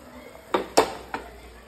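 A utensil stirs vegetable Maggi noodles in a pan, giving three sharp clinks and scrapes against the metal over a quiet background.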